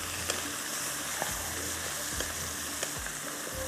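Green chillies frying with onions in a pan, a continuous soft sizzle with a few brief stirring knocks, no talk.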